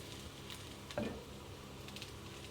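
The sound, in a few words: capsicum and garlic sizzling in a pan for fried rice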